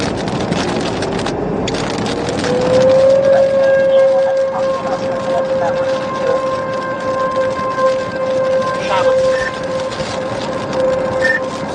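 A loud tornado siren in Miner, Illinois winds up and holds a steady wailing tone, droning continuously over a noisy outdoor background.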